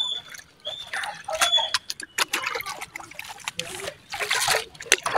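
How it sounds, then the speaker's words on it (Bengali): Water splashing and trickling as leafy greens are rinsed by hand in a home kitchen, with irregular sloshing bursts close by and someone talking over it. "শাক ধোয়া শেষ পানিগুলো অনেক পরিষ্কার"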